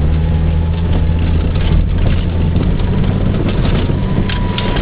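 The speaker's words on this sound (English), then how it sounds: "I'm drifting right now at like 25 miles an hour. Of course, it's slow because it's in the snow." A car engine droning steadily and loudly up close while the car drifts slowly through snow, a continuous low rumble with no talking.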